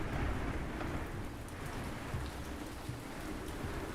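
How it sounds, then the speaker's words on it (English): Steady rainfall in the video game Ancient Cities, a soft continuous patter of drops with faint low rumbles like distant thunder, fairly quiet and unbroken. "Oh boy, rain."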